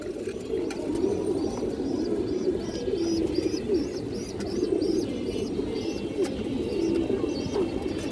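A pigeon with a black tail and red eyes coos repeatedly close by, soft throaty calls rising and falling over steady background hum, with faint chirps from other birds.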